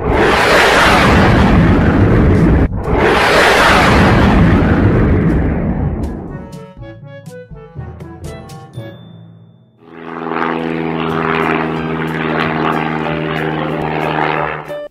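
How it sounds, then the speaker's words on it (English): A fighter jet thunders past in two loud roaring bursts, followed by a short musical jingle and then a steady droning engine sound. "Fighter jet."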